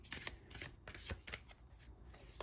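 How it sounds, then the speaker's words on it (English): Large tarot cards are shuffled by hand, giving quick repeated bursts of papery riffling and slapping, close by and quiet. "These are really hard to shuffle. They're just so big."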